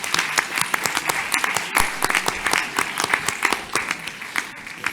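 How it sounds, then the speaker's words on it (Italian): Applause for a basketball team from Dinamo Banco di Sardegna, a dense burst of many hands clapping that runs steadily for the whole stretch with a few louder individual claps standing out. "Io direi di fare un applauso a questi giganti"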